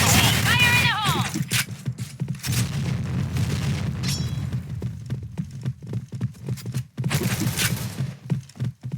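Grenade blasts in the Point Blank shooter game, with loud booming bursts amid dense gunfire clatter and sharp game effects that thin into scattered cracks and thuds toward the end.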